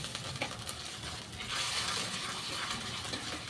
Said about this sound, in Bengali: দিয়ে বেশ ভালো করে নাড়াচাড়া করে নেব।